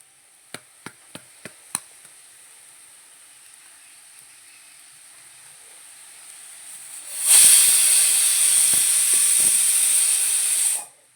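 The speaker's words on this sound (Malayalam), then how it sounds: "അതിലേക്ക് ലേശം കായത്തിൻ്റെ പൊടി ഇട്ട് കൊടുക്കാം." Asafoetida powder dropped into hot oil with fried chilli and ginger gives a sudden loud, steady sizzle lasting several seconds, after a few sharp taps and a quiet hiss.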